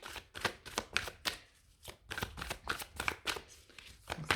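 Tarot cards shuffled and drawn by hand, a rapid series of crisp riffling flutters and soft slaps in uneven bursts, close and fairly quiet with no talking.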